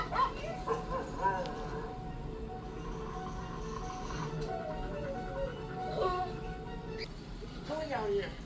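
Dogs barking and whimpering in a scene from the spoof film Scary Movie 3, the yips and barks scattered through the clip under continuous speech and background sound.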